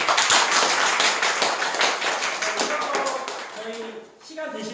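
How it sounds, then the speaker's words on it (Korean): A lecture audience applauds the speaker at the end of a talk on labour and progressive parties, a room of steady clapping that thins out, with voices emerging as it fades. "큰 박수"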